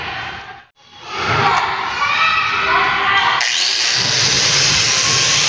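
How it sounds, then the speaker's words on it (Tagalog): A power wire brush scrubbing paint off metal before welding a small crack on a roller coaster part, a loud continuous whirring grind that cuts out briefly near the start, then resumes and grows harsher. "ng brush para matanggal yung pintura niya para madali siyang dumikit"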